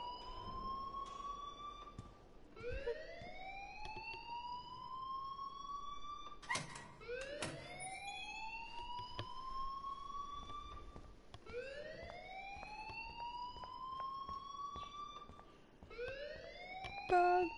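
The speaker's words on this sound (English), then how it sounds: "please turn off that alarm" A repeating rising alarm tone sounds in the Life is Strange video game, each wail sweeping upward in a steady cycle roughly every few seconds, loud and continuous with no talk over it.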